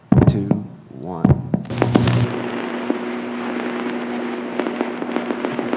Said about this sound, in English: that bubbling sound is the ticketer, and that set up the call